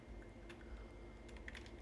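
Computer keyboard tapped while typing code, quick light key clicks in a soft uneven run, close and quiet over a low background hum, with no speech.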